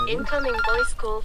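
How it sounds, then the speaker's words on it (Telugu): A short, tuneful phone ringtone plays loudly nearby, a melodic jingle with a sung quality. "ఫోన్ వస్తుంది"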